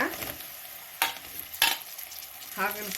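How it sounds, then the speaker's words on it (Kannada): Bitter gourd frying in a pan with browned onions, a soft sizzle interrupted by two sharp scraping strokes of a spoon and a brief squeak near the end. "ಹಾಕಿ ಫ್ರೈ ಮಾಡಬೇಕೀಗ. ಇದು ಒಂದು 10 ನಿಮಿಷ ಫ್ರೈ ಮಾಡಬೇಕು."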